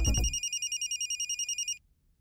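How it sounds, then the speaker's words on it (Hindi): A telephone bell rings in a quick run of evenly spaced trills, loud and close, with a brief voice at the very start and then the ringing alone until it stops. "फोन।"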